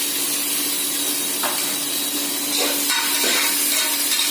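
Tomatoes dropped into a hot pan while cooking idli-style bachelor food, giving a continuous loud sizzling hiss with a steady background hum and a few brief stirring scrapes, with no talking.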